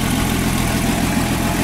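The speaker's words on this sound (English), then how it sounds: "This is a nice and clean 1966 Ford Mustang convertible, powered by its 200 cubic inch six cylinder" A 1966 Ford Mustang convertible's 200 cubic inch six-cylinder engine idles steadily up close, a continuous low mechanical hum with a constant level and no voices.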